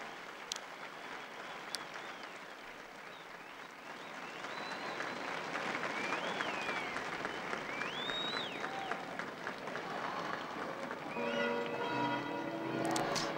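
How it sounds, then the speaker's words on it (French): The bells of Saint Peter's ring out from a distance over a large crowd of pilgrims applauding and murmuring in Saint Peter's Square during the Angelus, with the pealing more distinct toward the end. "Vous entendez les joyeuses cloches de Saint-Pierre."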